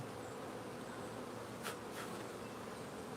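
A steady, low buzz of bees at an apiary fills the clip, with a couple of brief louder passes drifting close by.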